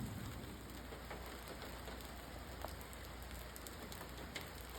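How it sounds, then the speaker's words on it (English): Rain beginning to fall during a storm amid wildfire smoke, a soft, steady hiss of drops patters on nearby surfaces with a few louder individual taps, faint and even throughout, no speech. "It just started raining."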